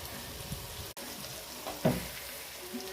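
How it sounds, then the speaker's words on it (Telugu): Curry leaves and green chillies frying in hot oil in a pan, a steady close sizzle with a brief clatter partway through, no voices. "ఇప్పుడు కరివేపాకు పచ్చిమిర్చి అన్నీ బాగా వేగాయి"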